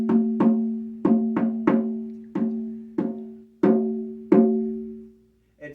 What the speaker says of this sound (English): deer manifestation drum. It's got 9 lacings and 3 handles